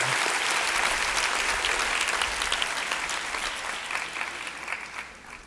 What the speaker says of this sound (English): So let's give ourselves a round of applause for that.